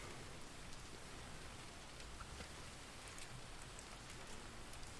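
Steady rain falling in the fishing game Fisher Online at a pond, a soft continuous hiss with scattered drop ticks, quiet and alone.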